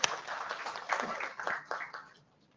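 Audience clapping after a lecture at a live-streamed institutional talk, a brief, moderately quiet burst of many hands that tapers off and dies out within about two seconds.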